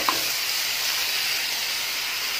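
Finely chopped onions hit hot oil with golden-browned cumin seeds in a pan for soya masala, giving a loud, steady, close-up sizzle and hiss throughout.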